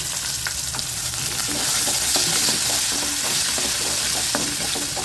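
Chopped onions sizzle steadily in hot oil while a spoon scrapes and stirs through the pan in irregular strokes.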